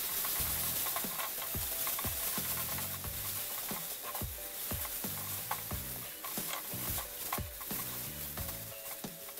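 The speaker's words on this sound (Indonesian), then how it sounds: "Aduk-aduk sebentar," A utensil scrapes rhythmically around a pan, stirring a mixture of bread and milk powder with repeated strokes over a faint sizzle, close and steady throughout.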